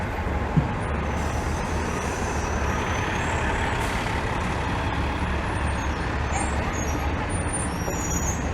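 A truck rolls through a downtown Toronto bus lane on Spadina amid steady, close street traffic rumble, with a brief air-brake hiss early on and faint high beeps.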